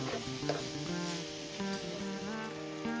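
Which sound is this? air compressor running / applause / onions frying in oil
onions frying in oil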